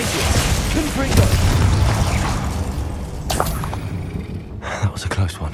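A Confringo fire spell explodes in the Hogwarts Legacy video game, with heavy booming rumble followed by two sharp, loud bursts, layered among other game effects.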